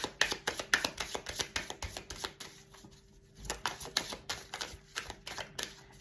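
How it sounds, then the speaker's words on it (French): A deck of cards is shuffled by hand for a card reading, giving rapid, crisp riffling clicks in quick bursts that repeat throughout with a brief pause in the middle, close and moderately loud with no voices. "On va mélanger les cartes."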